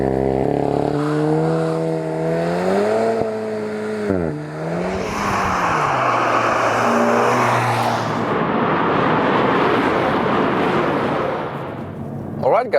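A Volkswagen Golf GTI TCR race car on a track, its engine revving up through rising gear-change sweeps and then a loud rushing roar as it speeds away, with someone talking over it.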